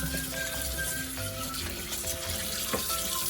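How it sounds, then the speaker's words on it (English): Water runs steadily from a sink tap, a continuous close hiss with faint clinks of dishes underneath. "I'm going to turn this water off"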